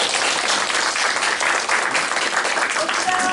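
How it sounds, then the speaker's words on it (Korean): Steady, dense audience applause fills the hall at a Korean recommendation awards ceremony, sustained and fairly loud from start to finish, with faint voices underneath. "박수 한번 주세요"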